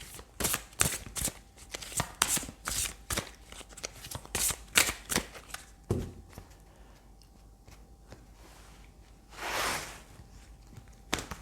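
Tarot cards being shuffled close by, a run of quick papery riffles and taps in irregular bursts, followed by a pause and a final softer rustle, with no talking.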